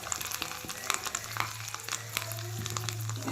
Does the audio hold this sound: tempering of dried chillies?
yes